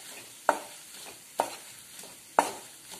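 Pav bhaji is stirred in a pan with slightly mashed onions, three sharp scraping strokes about a second apart over a faint sizzle.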